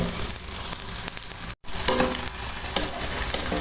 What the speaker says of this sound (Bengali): একটু সময় নিয়ে ভাজতে হবে